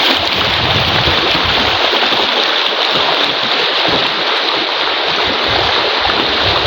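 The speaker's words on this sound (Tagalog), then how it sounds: "napakaganda ng agos ng tubig" River water flowing at a swimming spot, a loud, constant rushing wash heard up close with no breaks and no voices.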